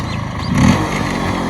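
A modified Bajaj Chetak scooter engine idles with a steady, close mechanical drone and gives one brief rev that swells and settles back to idle.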